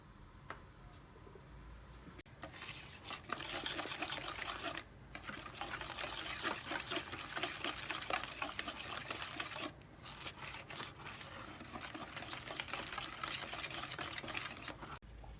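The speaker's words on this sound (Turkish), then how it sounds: "Sonra tekrar çırpıyoruz." Eggs beaten with flour and a little salt in a bowl, a fast continuous rhythmic whisking clatter with soft wet sloshing, close up, pausing briefly a couple of times.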